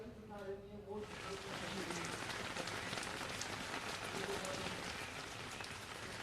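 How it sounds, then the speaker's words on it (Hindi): Heavy rain pours down in Jaipur as a dense, steady hiss that continues throughout. A voice is heard briefly at the very start. "बारिश इस वक्त वाकई में बहुत तेज बारिश इस वक्त राजधानी जयपुर के अंदर हो रही है।"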